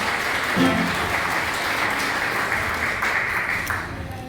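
A graduation ceremony audience gives a round of applause for the resident staff, sustained full clapping from a large crowd that stays dense and steady before tapering slightly at the end.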